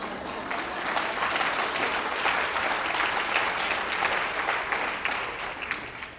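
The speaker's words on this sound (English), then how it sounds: "the reason all of you are laughing and clapping" An audience at a speech breaks into sustained applause mixed with laughter, a dense wash of clapping that swells and holds before tapering slightly at the end.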